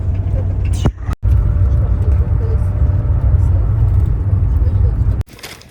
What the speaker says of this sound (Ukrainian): Ми вже маршруточки їдемо в аеропорт.